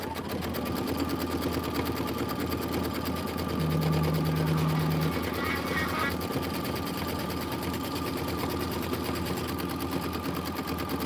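A sewing machine tacks down a quilting piece, its needle chattering in a steady, rapid rhythm throughout, loud and close with a brief slowdown midway.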